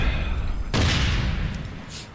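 Grenade explosions in the APB Reloaded video game: one loud, deep boom bursts in partway through and rumbles on under steady game noise, with a faint second blast toward the end.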